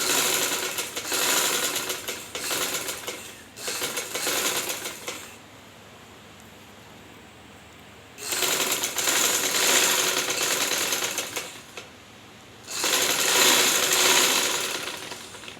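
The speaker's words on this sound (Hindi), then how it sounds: "इसके लिए हमने ये बिल्कुल किनारे पे सिलाई लगाएंगे।" A sewing machine stitches right along the edge of a shirt cuff in three loud, steady bursts, with quiet pauses in between.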